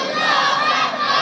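Large crowd at a Bangladeshi religious mahfil gathering in Brahmanpara loudly chanting the Islamic slogan Nara-e-Takbir, a dense sustained roar of many voices, brief and steady.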